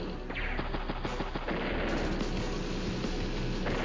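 In the video game Advance Wars: Days of Ruin, a tank attack sounds as a dense, loud volley of gunfire and booming blasts. The rapid reports blur into a continuous roar of explosions.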